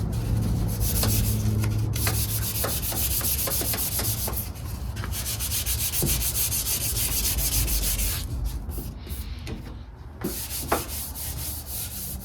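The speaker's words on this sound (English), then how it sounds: "We got some scratches and chips and stuff right here we're gonna sand out here." Sanding scratches and chips out of a 1978 Ford dashboard, a close, continuous rasping rub in long back-and-forth strokes that briefly pauses and then resumes.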